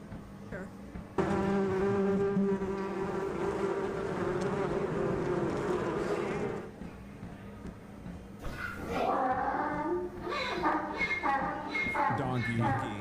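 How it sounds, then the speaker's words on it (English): A swarm of bees buzzes in a loud, continuous drone that holds steady, then fades as voices talk over the end. "Oh, the swarm of bees."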